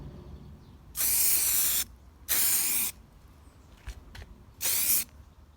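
Primer sprayed from an aerosol can onto a Volkswagen Mk1 Golf oil sump pan: three loud, even hissing bursts of about a second each, separated by quiet gaps with faint handling clicks.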